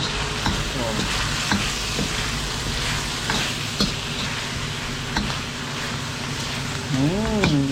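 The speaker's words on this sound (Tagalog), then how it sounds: "igisa muna natin ng patis" Chicken sautés with fish sauce in a hot pan, a dense, steady sizzle with scattered ticks and stirring scrapes, loud and close, with a brief voice-like warble near the end.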